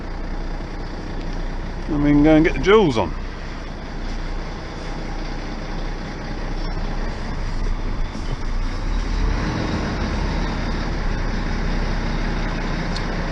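A truck engine idles and hums steadily while shunting to straighten its trailer, with a low, even rumble throughout and a voice speaking briefly over it early on.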